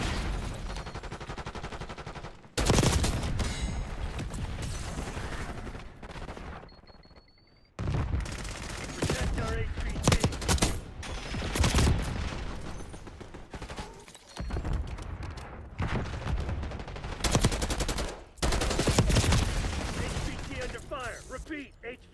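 Rapid gunfire from Call of Duty Black Ops 6 comes in loud, dense bursts. Voices speak over the shooting, and the firing breaks off briefly between volleys.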